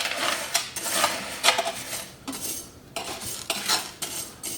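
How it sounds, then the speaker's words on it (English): Aquarium gravel being raked around by hand in an infinity edge tank, giving repeated gritty scraping and clattering bursts of small stones, close and fairly loud with short pauses between strokes, no talking. "Give her the old rake around."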